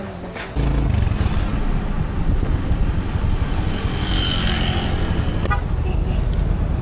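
A racing speedboat in Tawi-Tawi, Philippines, gives a loud, steady engine roar that starts abruptly after half a second and holds unbroken to the end.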